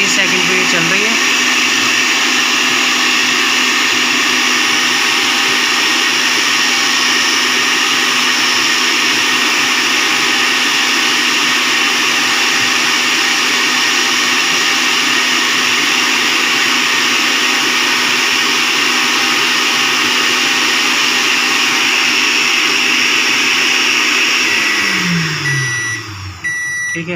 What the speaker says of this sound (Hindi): इधर हमारी मोटर 30 सेकंड पे चल रही है।